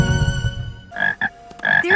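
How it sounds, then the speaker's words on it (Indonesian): A three-legged green frog in an animated film croaks in a few short, close, loud bursts, each one sharp and tonal. They follow a soft, low sustained musical passage. "Lalu muncullah katak hijau biasa tapi memiliki kaki tiga."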